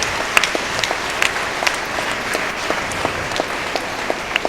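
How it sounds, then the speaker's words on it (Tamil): Audience applause after a speaker praises the girls in the crowd, a dense steady patter of many hands clapping at constant loudness with sharper individual claps popping out throughout. "கைத்தட்டுங்க அவங்களுக்கெல்லாம், வெரி குட்."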